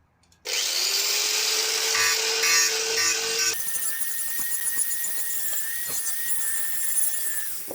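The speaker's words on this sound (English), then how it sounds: "So I'm going to rough them up, a lot of them. Angle grinder." An angle grinder roughing up surfaces on a Talbot Express Highlander II, starting abruptly and running loud and steady, its whine dropping in pitch partway through with grinding grit underneath.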